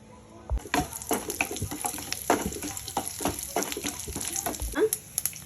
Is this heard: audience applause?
no